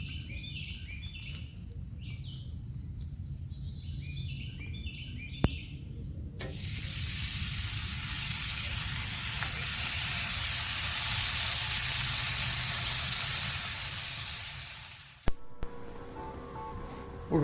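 Bacon sizzling on a cast iron griddle in a Kamado Joe grill, a steady loud frying hiss that swells in the middle and cuts off with a clunk as the lid closes; faint chirps and clatter precede it.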